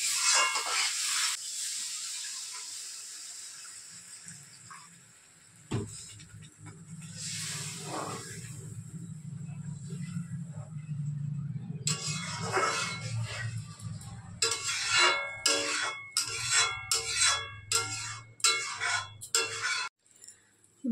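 Water splashed into hot oil and spices for a boal fish curry sets off a loud, bright hiss that settles into a low, bubbling simmer, with sharp clinks and clatters near the end.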